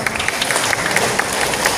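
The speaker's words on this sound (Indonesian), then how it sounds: "Tepuk tangan Bapak Ibu sekalian." Audience applause at an annual cooperative members' meeting at Pasar Wado, Sumedang, a steady dense clapping from a crowd filling the room throughout.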